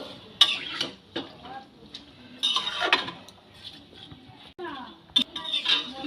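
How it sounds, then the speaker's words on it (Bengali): Cauliflower stalks being stirred into masoor dal in a pot, with irregular scraping and clinks of a spoon against the metal rim close by, a voice speaking briefly between strokes. "ডালের সাথে ফুলকপির ডাটাগুলো খুব ভালোভাবে মিশিয়ে দেব"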